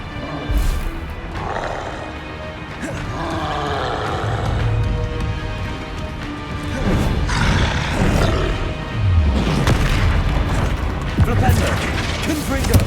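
Explosive spell blasts from the Hogwarts Legacy video game, several bursts and impacts over continuous combat noise, with a voice shouting spell names throughout.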